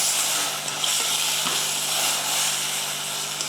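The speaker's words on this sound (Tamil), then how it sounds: "அடுத்து சிக்கன் சேர்த்துருவோம் உப்பு கொஞ்சம் மஞ்சள் தூளும் போட்டுடலாம் போட்டு நல்லா வதங்கட்டும்" Chicken sautés in a pan with salt and turmeric under a continuous soft, even sizzle and hiss. A faint clink or two of stirring breaks through, and there is no talking.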